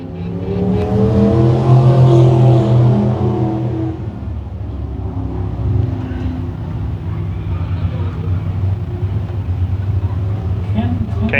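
A race car at Can-Am Speedway refiring its engine and accelerating, a loud rising roar close by that eases off after a few seconds into a steady throaty drone while a commentator talks over it.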